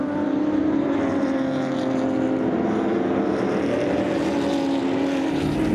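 Race cars roar during a pit stop at the 24 Hours of Daytona, a steady, dense engine drone with layered tones holding loud and constant throughout, no voices.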